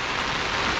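Rain pours steadily during rice planting in the Devgad countryside, a dense continuous hiss of drops on surfaces, loud and even throughout the brief moment, with no voices.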